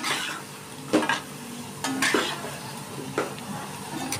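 Black lentil fritters fry in hot oil in a pan as they are lifted out: a soft continuous sizzle broken by several sharp scrapes and clinks of a metal spatula against the pan.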